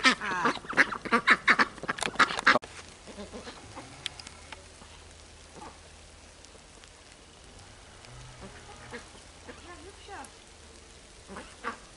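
A flock of ducks quacks loudly and repeatedly up close for the first couple of seconds alongside chickens, then only scattered faint calls remain over steady rain patter, with a person speaking intermittently.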